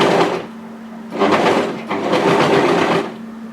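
A sewing machine stitches through three layers of a knit yoke sweater seam, running in loud bursts: a short run, a pause, then two longer runs close by.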